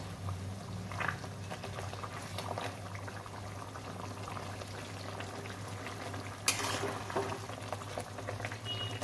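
Pabda fish curry with eggplant and potato boils steadily in a pot, giving a continuous close bubbling simmer with a brief louder splash partway through and no voices.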